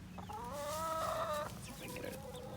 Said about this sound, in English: There's only 3 hens in here,